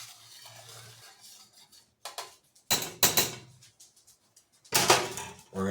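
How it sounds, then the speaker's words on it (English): A spoon stirs salt into a boiling pot on the stove, making several sharp scraping and clinking bursts against the pot at irregular intervals, with no one talking. "Stir that in."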